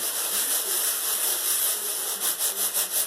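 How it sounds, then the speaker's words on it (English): Sand slides back and forth in a gold pan, a steady rough hissing rub that falls into a rhythmic swishing pulse toward the end, close and continuous with no speech. "you can get pretty rough with just sliding the sand back and forth in the pan"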